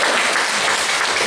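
Dense, even applause from the audience at a Chuseok (Hangawi) citizens' singing contest preliminary in Gimhae fills the short moment, continuous clapping heard close with no talk over it.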